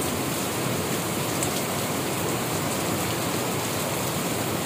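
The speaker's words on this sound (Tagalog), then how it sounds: "Ang lakas ang ulan" Heavy typhoon rain pours steadily, a dense, loud, unbroken hiss with no pauses or voices.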